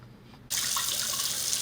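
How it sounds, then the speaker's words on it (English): Running tap water gushes over bell peppers being washed in a kitchen sink, starting abruptly and continuing as a steady, bright rush with no talk. "you want to wash your peppers off and take the little sticker off. Wash it real good."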